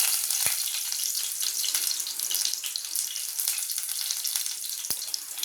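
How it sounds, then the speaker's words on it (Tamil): Mustard seeds and cumin spluttering in hot oil while an egg curry is cooked: a continuous close hiss and crackle, with a couple of sharper pops standing out. "எண்ணெய் சூடு என்னது இந்த மாதிரி கடுகு சீரகம் கொஞ்சம் ஆட் பண்ணிக்கோங்க. இங்கே பாருங்க, பொரிய விடுங்க."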